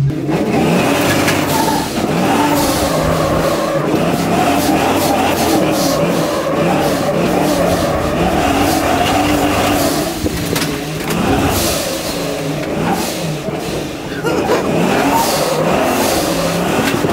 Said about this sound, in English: That's the pro charger.